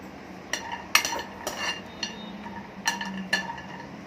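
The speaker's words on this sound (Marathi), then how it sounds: "आधी आपण काजू टाकू असं" Cashews tossed into a pan for a spinach dish, with a series of sharp metallic clinks and scrapes of a spoon against the pan, spaced irregularly and fairly close.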